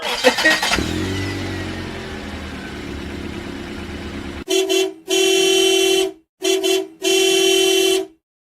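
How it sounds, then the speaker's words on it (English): A car engine starts with a sputter and then idles roughly, followed by four loud, close horn blasts in a long-short-short-long pattern. "Rev that engine. Let's go."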